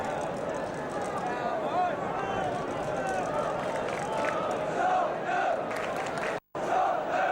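A large football crowd at White Hart Lane during a 1975 Tottenham v Chelsea match roars in a continuous, dense swell of chanting and shouting, loud and unbroken throughout.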